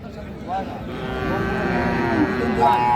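A cow gives a long, low moo close by at a cattle market in Tangail, Bangladesh, with faint market noise and murmuring voices in the background.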